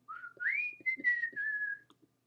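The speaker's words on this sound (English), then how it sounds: "They thrust their little necks out and kept up a musical whistling" A person whistles a short, sliding melodic phrase, clear and close, with soft clicks and mouth sounds underneath.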